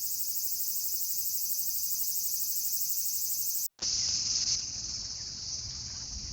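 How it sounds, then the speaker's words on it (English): A dense, high-pitched insect drone of cicadas fills the air continuously, briefly cutting out before resuming with a lower rumble underneath. "this is a test amongst some somewhat noisy cicadas"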